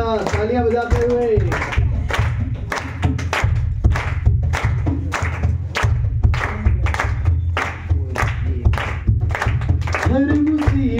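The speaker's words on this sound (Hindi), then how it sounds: "आनंद के साथ तालियां बजाते हुए" Congregation clapping hands joyfully in steady rhythmic time during worship singing, loud and close, the claps running throughout under voices.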